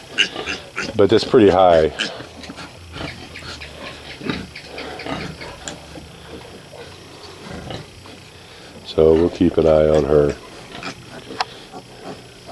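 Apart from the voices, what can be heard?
pig grunting and squealing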